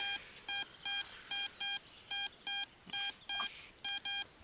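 An XP Deus metal detector gives a signal tone made of about a dozen short, clear beeps in an uneven rhythm. The beeps are moderately faint over quiet outdoor background noise, with no talking.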